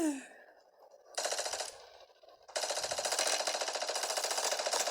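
Loud rapid automatic gunfire bursts in the mobile video game Call of Duty Warzone Mobile, a short burst followed by a longer sustained rattle, after a brief fading sound at the start.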